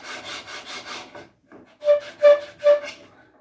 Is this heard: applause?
no